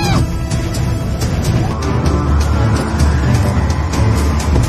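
Cars race in a chase scene from an Indian action film, engines roaring loud and steady throughout with a hard, busy texture, no speech over it.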